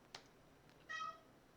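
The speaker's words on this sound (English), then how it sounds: "Yeti, my other cat, is crying right now." Indoor cat named Yeti meowing faintly, a soft brief cry after a small click, quiet and in the background.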